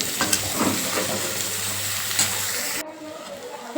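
Radish sizzles and fries steadily in a pan with salt, turmeric and sugar added, a continuous close hiss with a few stirring scrapes before a lid goes on and the sound drops to a muffled, quieter sizzle.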